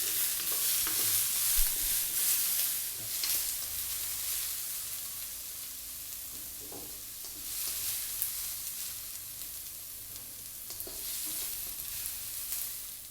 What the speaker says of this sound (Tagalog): mag-i-start na ulit tayo mag-saute ng ating garlic, ginger, onion